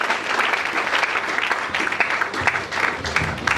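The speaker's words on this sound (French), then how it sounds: "Est-ce qu'on peut acclamer très fort?" A church congregation applauds loudly and continuously, a dense steady clatter of many hands with faint cheering mixed in.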